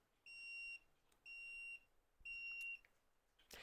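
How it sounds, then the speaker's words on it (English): DOVOH 360 self-leveling laser level sounding its out-of-level warning: three evenly spaced high-pitched electronic beeps, each about half a second long, close and clear in a quiet room. "So if we're out of range, you can hear it beeping, and it has a fast flash."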